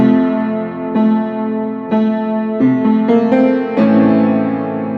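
Piano chords struck one after another with the sustain pedal held, each ringing into the next so the notes blur together into a sustained, muddy wash.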